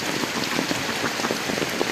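Rain falls steadily on a rainy day outdoors, a dense, close patter of drops hitting surfaces with no voices.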